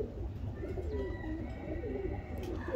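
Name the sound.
pigeon cooing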